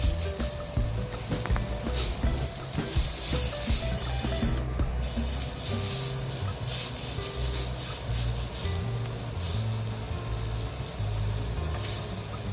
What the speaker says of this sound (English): So all outside you have to saute.